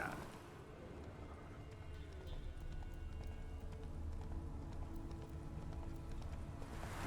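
Horse named Roach galloping in a video game, a steady muffled rhythm of hoofbeats running throughout at moderate, fairly quiet level with no talking.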